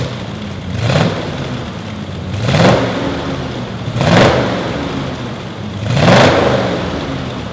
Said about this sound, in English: so what I wanted to do was fire it up for you so you could hear it